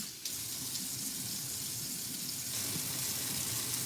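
Water runs steadily from a tap into a container for a fried rice slurry, a continuous close hiss and splash with a slight rise in intensity partway through, no talking.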